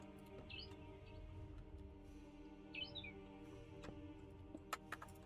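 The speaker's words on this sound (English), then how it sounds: "Why is there a bird outside my window being loud?" A bird outside a window gives two short, faint chirping calls a couple of seconds apart over a steady indoor hum, with a few soft clicks near the end.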